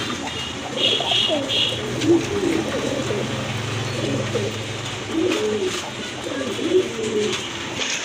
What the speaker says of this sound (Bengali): আরেক জোড়া কবুতর দেখেন খুবই সুন্দর দেখার মতো